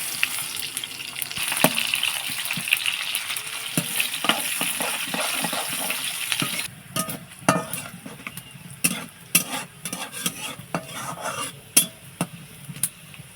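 Cumin seeds followed by onion fry in hot oil in a pan for a Bengali taro leaf (kochu pata) dish, a steady sizzle with frequent sharp crackles and the scrape of stirring, loud and close with no talking.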